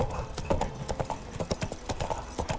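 Hooves of Geralt's horse Roach clip-clopping in a quick, uneven rhythm on the ground in The Witcher 3 video game, close and clear, with faint game ambience behind.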